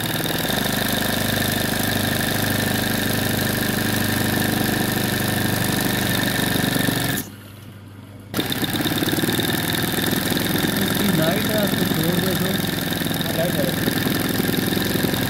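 A motorcycle engine idles close by with a low, even rumble, briefly cutting out for about a second before running again.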